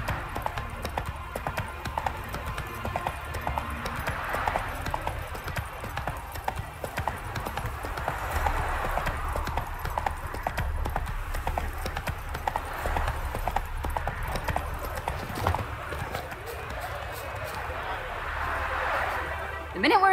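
Roach, Geralt's horse in The Witcher 3: Hearts of Stone, clip-clops steadily and up close for the whole stretch, a continuous rhythmic trot of hoofbeats under low rumbling game ambience, with voices talking intermittently over it.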